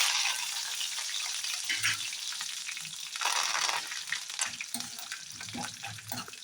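Curry leaves fry in hot oil for a coconut tomato chutney, a steady close crackle and sizzle with scraping stirs throughout, fairly quiet and with no one talking.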